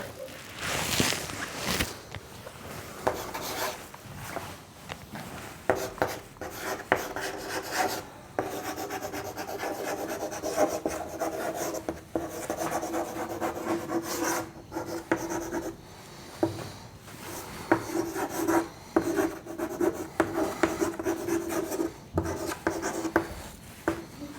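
Chalk or marker scratching across a board as physics notes are written, continuous rubbing strokes with brief pauses, fairly close and steady, no talk over it.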